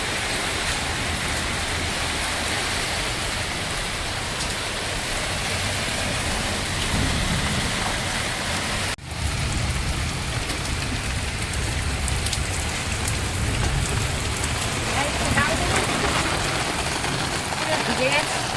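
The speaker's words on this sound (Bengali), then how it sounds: "প্রচণ্ড বৃষ্টি হচ্ছে, সেরকম বিদ্যুৎ চমকাচ্ছে" Heavy night rain pours down steadily during a lightning storm, a dense, unbroken hiss of drops drumming on surfaces close by, with one brief dip in the middle.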